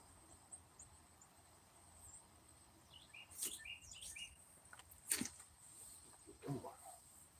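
A lone bird calls in a quiet snowy Texas landscape, a few short, high chirps spaced several seconds apart that are faint and distant against a hushed background.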